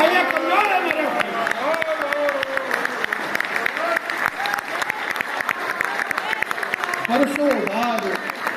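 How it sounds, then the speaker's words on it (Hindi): An audience at a comedy poetry gathering claps in a steady, moderate round of applause while a voice speaks over it, with brief bursts of talk rising through the clapping. "आपकी तालियां कमजोर है मेरे भाई"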